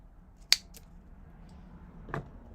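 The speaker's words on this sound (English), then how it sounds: "I always struggle with knowing how long to actually cut the yarn." Scissors snipping yarn, a single sharp close snip followed by a fainter second cut about a second and a half later, in a quiet indoor setting.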